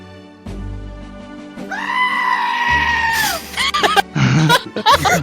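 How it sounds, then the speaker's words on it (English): A goat bleats in a long, loud, wavering cry close by, followed by shorter strained bleats and scuffling noises. "That's a goat."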